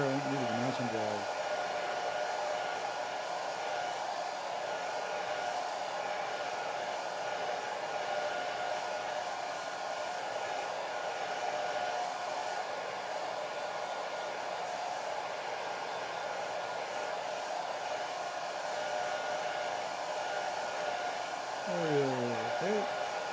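A hair dryer blows steadily on a watercolor painting for over twenty seconds, a loud continuous whir that starts and stops with brief pitch sweeps at each end.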